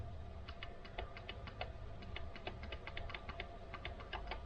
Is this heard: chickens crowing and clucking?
no